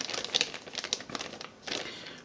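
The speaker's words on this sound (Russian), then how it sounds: "И вот сам Audio Interface, упакованный в пакетик. Ой, его бы вытащить еще. Вот, вытаскиваем." Crinkly plastic rustles and crackles as a USB audio interface is slid out of its plastic bag, a soft continuous close-up handling noise with no talking.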